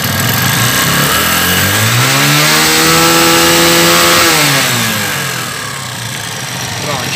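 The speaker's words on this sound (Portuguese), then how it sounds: "Então vamos acelerar." A 2010/11 Dafra Apache RTR 150 motorcycle engine, tested on the stator, revs up from idle, holds high RPM steadily for several seconds, then drops back toward idle. It is loud and close, with no talking.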